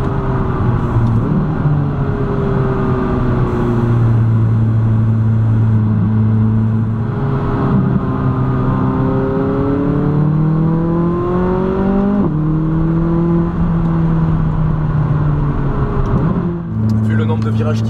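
McLaren 570S engine loud and close from inside the car on a winding desert road near Las Vegas, revs rising through the gears with a shift into third and a quick downshift, someone talking over it throughout.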